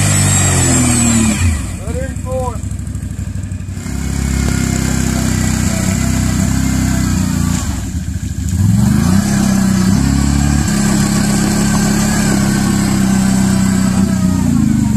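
A four-wheel-drive vehicle's engine revs and labors loudly on a trail, rising and falling in pitch as it climbs, with voices talking over it.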